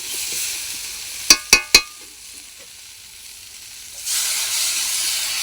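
Water hits a hot pan of frying tilapia with greens and bursts into a loud hissing sizzle. The pan crackles steadily and a few sharp metallic clinks sound near the start before the hiss swells again.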